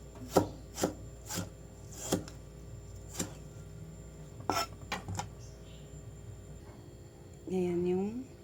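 A knife slicing tomatoes on a cutting board in a home kitchen, a series of sharp, separate chopping taps at an uneven pace, close and clear, with brief speech at the end.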